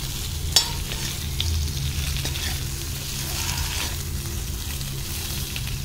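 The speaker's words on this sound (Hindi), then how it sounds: "अरबी मेरी तैयार हो गई है इस तरह से, ये गोल्डन गोल्डन सी भून के तैयार होती है" Cubes of taro root (arbi) fry in a pan as they are stirred, giving a steady sizzle under repeated scraping of a spoon against the pan, with no voices.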